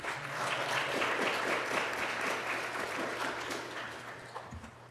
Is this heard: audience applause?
yes